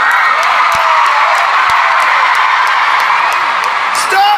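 Concert crowd in Ottawa cheering and making noise for a band, a loud, continuous roar of screams and whoops from a large audience with scattered claps.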